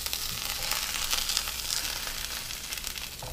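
A grilled flatbread sandwich sizzles steadily on a hot surface as it is flipped, a loud, continuous hiss close by with no voices.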